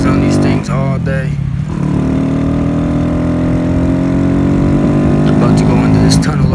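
A stock Honda Grom motorcycle rides downtown, its small single-cylinder engine droning steadily and loudly close by, pitch holding mostly level with brief dips, while a rider talks over it.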